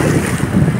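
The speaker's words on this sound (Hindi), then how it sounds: "देखिए तनिष्का भी भीग गई और मैं भी भीग गया पूरा।" Strong rushing water pouring at Mohanpura dam in Rajgarh, a loud, steady roar of churning water mixed with wind buffeting the microphone, close and continuous with no speech.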